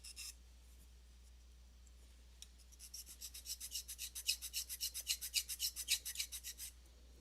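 A hand file scrapes burrs off metal in a steady back-and-forth rhythm of about twenty strokes, a soft rasping that builds after a quiet start, close and fairly faint, with no voices.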